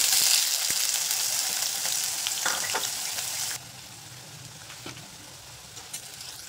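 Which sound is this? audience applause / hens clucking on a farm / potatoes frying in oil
potatoes frying in oil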